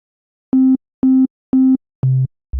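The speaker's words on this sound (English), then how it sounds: "head to oscillator A and call up a sine wave" Plain sine-wave tones from an Xfer Serum synth oscillator sound as five short, evenly spaced beeps. The first three share one pitch, and the last two drop lower.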